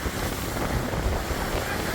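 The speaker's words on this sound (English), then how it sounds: "We are seeing very high waves crashing here on shore." High storm surf crashing onto the shore during Hurricane Idalia at North Shore Park in St. Petersburg, Florida, with steady wind rumbling over a continuous, loud roar of surging water.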